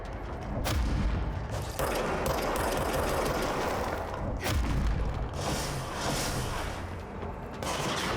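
Gunfire from enemies in the video game Control rattles through the fight in dense, loud bursts of shots and booms, with brief gaps between volleys and no talking over it.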